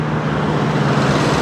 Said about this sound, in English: big truck, man